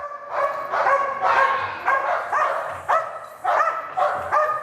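A police dog barks and yelps in repeated loud bursts while a decoy agitates it, close and agitated, with some human voices underneath.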